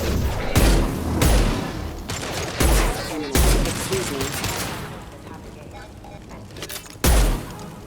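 Bursts of game gunfire from Mass Effect 2 Legendary Edition, loud booming shots recurring every second or so amid dense battle noise, with speech mixed in.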